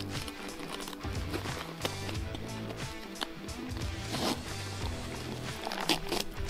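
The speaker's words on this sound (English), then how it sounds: "take the narrow hook and loop and thread it into the smaller slots so that the knife sheath can" A narrow hook-and-loop strap is threaded into the small slots of a Morakniv knife mounting rail, giving quiet, close scratchy rasps and fabric rustles repeated in short bursts.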